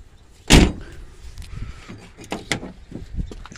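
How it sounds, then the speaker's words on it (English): A car door on a 1991 car at an outdoor junkyard in Toledo, Ohio, slams or jolts once with a loud, close thunk, followed by quieter rattles and creaks of the worn door. "Let's see if I can open this door again."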